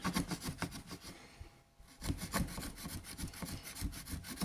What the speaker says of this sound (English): if you use a standard plastic trim tool